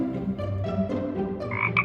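Frog croaking in a children's video about colours, a steady run of low, throaty croaks close up with a brighter call near the end, alone without talk.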